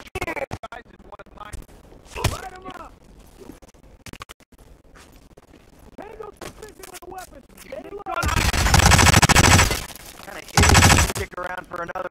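Gunfire in Hitman (2016) with sharp shots and two long, loud sustained bursts of automatic fire near the end, while in-game voices talk in between.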